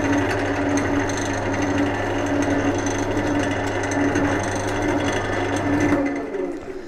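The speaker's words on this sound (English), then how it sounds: "the best way of doing this is usually to spin the lathe up and then bring the live centre in" A wood lathe hums steadily, a loud continuous motor drone with a whirring, rattling edge that runs for about six seconds before cutting off and dropping away near the end.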